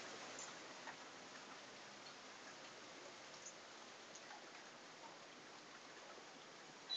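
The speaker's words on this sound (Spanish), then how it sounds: "Aquí es Acapulco y no debería estar lloviendo." Steady rain falling in Acapulco, a soft even hiss of drops on surfaces with occasional closer ticks, quiet and continuous throughout.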